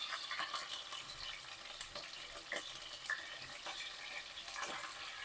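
Mutton pieces dropped into hot oil with cinnamon and cloves, giving a steady low sizzle with scattered pops and crackles, moderately close and unbroken, with no talking over it.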